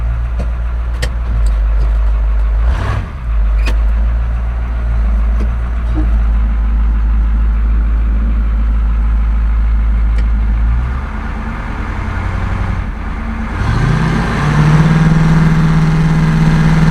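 A farm machine stuck in a muddy cattle pen, its diesel engine droning loud and steady before dipping and then revving up hard as one wheel spins in a burnout, close by.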